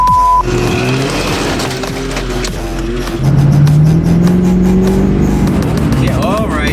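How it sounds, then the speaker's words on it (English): A vehicle towing a trailer revs hard as all four tires spin in snow, the engine whining and rising in pitch, loud and close, with a person talking over it. "One sideways with the trailer, all four tires spinning."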